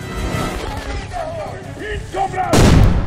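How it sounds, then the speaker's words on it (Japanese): A grenade goes off in the video game Metro Last Light with a sudden, loud, close burst near the end, following a stretch of game sounds and scattered voice-like tones. "おー、手榴弾。"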